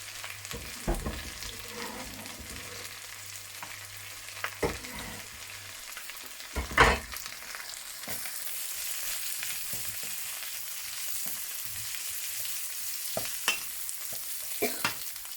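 Celery tossed in a hot wok with onion and chili for a vegan Chinese-style stir fry, with a soft steady sizzle and occasional clanks and scrapes of the spatula, close and alone.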